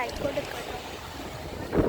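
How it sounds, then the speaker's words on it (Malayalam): Gusty wind buffeting the microphone with a low rumble, lasting under two seconds and ending in a stronger gust. "ഇവിടെ നല്ല കാറ്റുണ്ട് ആ ഭാഗം നല്ല രസമുണ്ട്"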